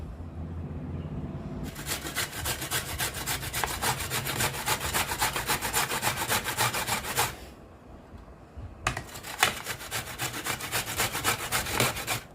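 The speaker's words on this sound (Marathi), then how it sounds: "अशा प्रकारे मी सगळं गाजर किसून घेते." Carrots are grated by hand for carrot halwa, producing fast, loud rhythmic rasping strokes up close, in two long bursts separated by a short quieter gap, with no voices.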